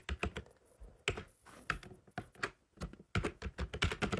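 Rapid keystrokes on a computer keyboard while filling in an online NEET 2026 application form, with close, crisp clicks in quick irregular bursts and short pauses between them, and no voices.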